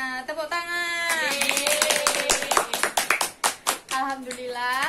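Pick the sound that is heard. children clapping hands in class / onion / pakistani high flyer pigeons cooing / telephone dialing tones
children clapping hands in class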